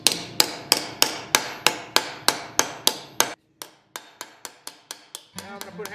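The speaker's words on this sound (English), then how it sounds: "I'm just hammering beside that to raise up that outside edge" Rapid, evenly spaced hammer blows ring on a metal chess piece on an anvil, about a dozen sharp strikes, a brief pause, then a lighter series of quicker taps.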